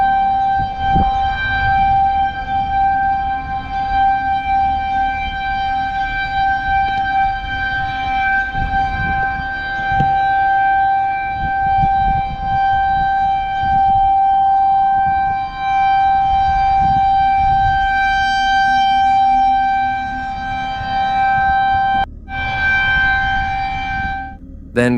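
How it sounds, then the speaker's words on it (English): Tornado warning sirens wail loudly and continuously over a campground, a steady high tone over a rumbling background, with brief dips near the end. "Moments later, sirens howled through the campground."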